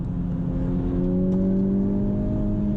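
A 2021 Honda Civic Type R engine heard from inside the car during a downshift, a steady droning hum whose pitch shifts slightly as the revs change, with no talking.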